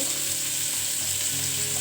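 Bitter gourd (karela) slices frying in a pan give a steady, close sizzle that holds evenly for the whole stretch, with no voices over it.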